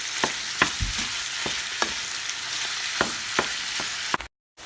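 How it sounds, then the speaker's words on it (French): Ground meat and onion fry in a pan for kefta, a steady close sizzle broken by regular clicks of a utensil stirring, then a sudden drop to silence at the end. "On va le faire revenir avec l'oignon."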